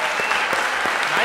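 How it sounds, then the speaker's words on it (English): A crowd claps steadily, a brief dense burst of applause at moderate loudness. "Applause for our wonderful assistants here who are helping with the props."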